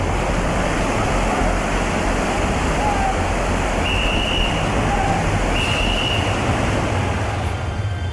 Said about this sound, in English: She still has to swim through a Class 5 rapid.